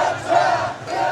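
Crowd of participants roaring in unison at a traditional tug-of-war festival while hauling a huge straw rope, a loud, sustained rhythmic shout with a surge in the middle.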